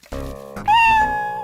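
A cat meowing nearby: a couple of short, soft mews followed by a louder, drawn-out rising meow, with no speech.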